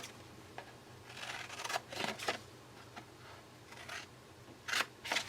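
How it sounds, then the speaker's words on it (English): Scissors snipping through paper up to a score line while making a punch-board envelope box, giving a few quiet, separate cutting bursts with short pauses between them and no speech. "all you're going to do is cut up to the score line, and you're going to do this on both sides"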